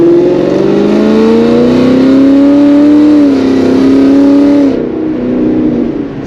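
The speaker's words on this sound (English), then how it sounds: "I barely need to like give it any gas to get some power." A Ford Mustang GT V8 running on 85 fuel with a new tune revs up under acceleration, a loud close steady engine drone rising and holding in pitch before easing off near the end, with no talk.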